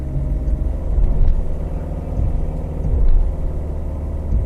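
A 2017 Subaru Forester crawls slowly offroad over a hill, with traction control handling some wheel slip; a steady low engine rumble swells and eases without any talk.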